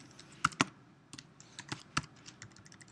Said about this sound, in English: come down here and begin typing